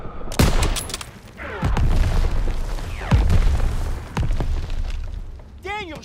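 Ammo caches blowing up in a World War II shooter game, heavy booming blasts mixed with rapid gunfire and whistling debris, loud and close, while a voice calls out orders over the battle.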